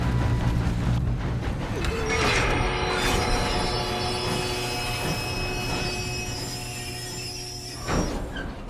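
Train wheels rumbling steadily on rails in Red Dead Redemption 2, a continuous loud low roar with faint metallic squeal tones above it and no talk.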